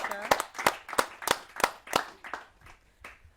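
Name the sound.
audience applause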